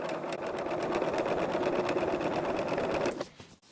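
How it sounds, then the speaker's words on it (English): A sewing machine runs a diagonal seam across a quilt block in one rapid, steady burst of stitching, close and clear, and stops abruptly near the end. "So what I'm doing is I'm just stitching diagonal here."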